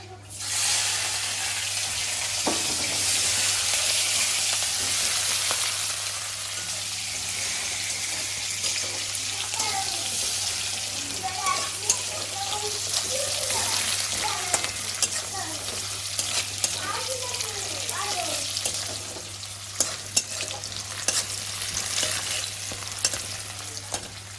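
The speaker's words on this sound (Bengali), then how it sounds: "পেঁয়াজটা আমার ভালো করে কিন্তু লাল লাল ভাবে ভাজা হয়ে গেছে" Chopped onions fry until reddish brown with a loud, steady sizzle that softens into crackling pops, with occasional stirring scrapes throughout, close up.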